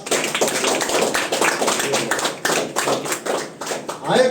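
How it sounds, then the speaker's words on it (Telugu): An audience at a Dattatreya Swamy Jayanti celebration in Jangalapalle village gives close, lively applause at a prize-giving, with dense clapping running through the clip alongside an announcer's voice. "గట్టిగా చప్పట్లు కొట్టాలా"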